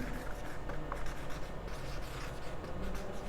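Continuous scratchy writing on a board during a numericals lesson, a steady close rubbing sound running throughout with no speech over it.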